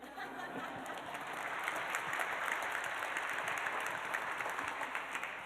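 Applause from an audience at a talk with an anti-racist leadership author and former Jamba Juice CEO, a steady wash of many hands clapping that holds level throughout with no voices over it.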